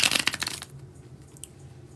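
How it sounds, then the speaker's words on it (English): Tarot cards riffled in a bridge shuffle, a dense burst of crisp flutter for the first half second that quickly fades to quiet room tone with a faint tap near the end. "let's go ahead and do the first bridge shuffle"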